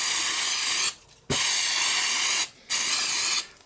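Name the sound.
spraying cheap auto brake cleaner on motorcycle caliper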